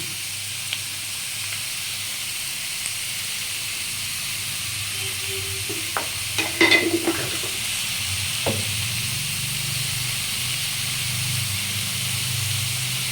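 Potatoes and onions fry in a pan for aloo posto, giving a steady soft sizzle and hiss with a few brief clinks of a utensil partway through, no talk over it.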